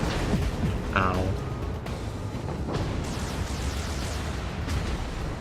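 Torpedo strikes blast against a warship in a naval combat video game, a dense roaring wall of explosions with sharp bursts near the start and around the three-second mark, rumbling continuously throughout.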